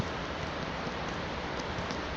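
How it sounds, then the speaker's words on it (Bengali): Heavy rain pours down in a constant, dense wash of drops that holds at an even level from start to finish, with no speech. "অনেক বেশি বৃষ্টি হইতেছে গাইস।"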